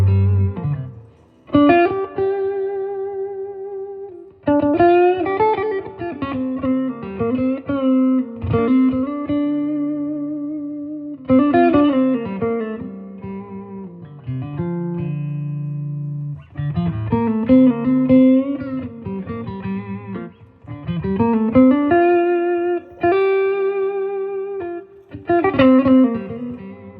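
An electric guitar played through the overdrive channel of a Bill Krinard Two Rock Dumble-style amp with reverb delivers phrases of sustained, lightly distorted notes and bends, separated by brief pauses, loud and up close with no talking.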